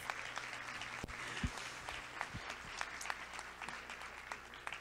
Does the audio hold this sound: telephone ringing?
no